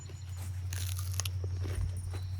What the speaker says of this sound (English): I'm gonna have to eat me a pea.